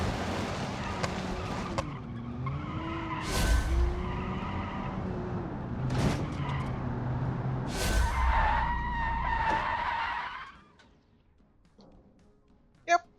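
A 1970s Soviet car in the Automation racing game oversteers, its engine droning while the tires squeal in several long skids. The engine then cuts out, leaving near silence with one sharp click at the end.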